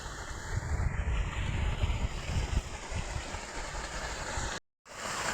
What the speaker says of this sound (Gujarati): અત્યારે મોટર પણ ચાલુ છે અને માંડવીમાં પાણી જાય છે આ બાજુથી